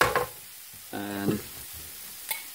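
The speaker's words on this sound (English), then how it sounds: "off I go, mixing the whole lot into the rice" Rice mixture for bubble and squeak is stirred in a frying pan, giving a few short scraping strokes and a brief squeak over a light sizzle, close by with no talking.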